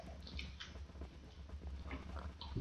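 Pigs in the video game Minecraft give a few short grunting oinks, faint and intermittent over low game ambience, with no talking.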